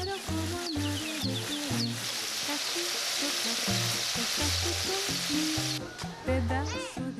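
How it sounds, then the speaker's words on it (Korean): Cassava pieces sizzle and crackle steadily in frying oil throughout, loud and close, with occasional clattering of utensils stirring them. "튀기는 소리를 들으니 또 맛있어 보입니다"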